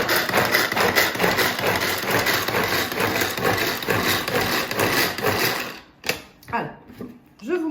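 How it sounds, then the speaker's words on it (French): A pull-cord chopper hacks basil, garlic and shallot in a rapid whirring rattle, repeated for several seconds before a few separate sharp pulls and clacks at the end. "je vais donner quelques coups de corde"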